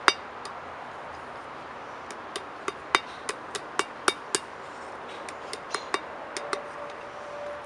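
Hammer blows on a hot forged steel leaf at an anvil, a dozen or so sharp metallic strikes in an uneven rhythm, near and clear, with brief pauses between bursts and no talking.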